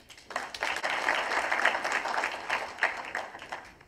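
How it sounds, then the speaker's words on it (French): An audience at a panel session on tourism, creative and cultural industries and the blue economy breaks into steady applause, a dense wash of clapping that swells quickly and holds for several seconds with a few louder claps poking through. "C'est de bien vouloir applaudir le panel."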